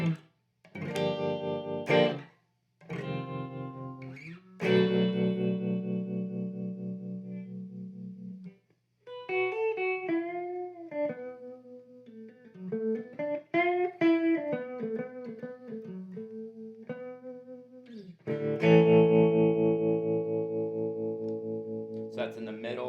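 An electric guitar played through a Lovepedal Blue Wave tremolo pedal, with strummed chords and single-note melodic runs carrying a pulsing, wavering volume; loud and close, with pauses between phrases and no talking.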